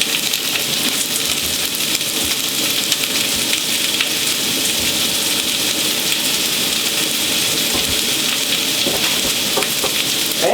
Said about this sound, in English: now we are going to wash the leeks